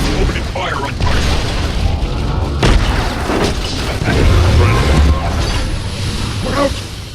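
Gunfire and explosions in the video game Transformers: Revenge of the Fallen, with repeated heavy booms and blasts over a mechanical battle din while a voice speaks.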